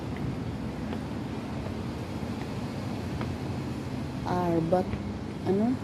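Steady wind rumbling and buffeting the microphone outdoors on Arbuthnot Road, with people talking faintly in the background and a few brief tonal chirps near the end.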